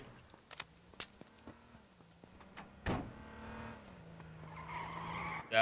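A car in a shooter video game drives and skids, with a low steady engine hum, sharp clicks and bursts, and a rising tire squeal near the end, fairly quiet overall.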